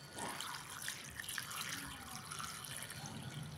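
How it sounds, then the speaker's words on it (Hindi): Clean tap water pours steadily into a bowl of cut karela (bitter gourd) for rinsing, a continuous close splashing and running-water sound that lasts the whole stretch with no talk. "इसमें डालते हैं साफ पानी पहले"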